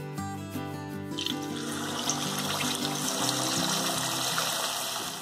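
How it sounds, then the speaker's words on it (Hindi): Chicken pieces slide into very hot oil for crispy fried chicken, setting off a loud, steady sizzle that swells after a quiet first second and keeps crackling over background music, with no talking. "चिकन के पीसेस ऐड करते वक्त हमें बहुत ज़्यादा सावधानी से ऐड करना है क्योंकि तेल बहुत ज़्यादा गर्म है।"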